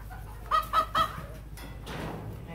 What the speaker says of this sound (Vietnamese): Gà này gà Thái.